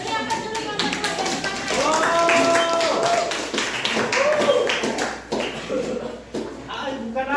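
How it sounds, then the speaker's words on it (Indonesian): A classroom or group gathering cheering for group 2, with hands clapping in a steady patter of applause that runs throughout, mixed with voices and chatter. "Beri aplaus dulu kelompok 2"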